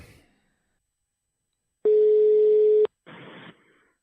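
A steady telephone tone sounds for about a second while redialing after a dropped podcast call, then a short, rougher burst follows. The line is otherwise quiet and no one speaks.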